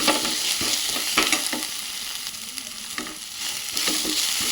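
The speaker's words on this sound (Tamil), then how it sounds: "வெங்காயம் வதங்கிடுச்சு" Onions sizzling and frying in a pan for paneer butter masala, a steady close crackle broken by periodic scraping stirs.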